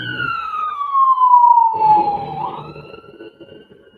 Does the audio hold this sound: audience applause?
no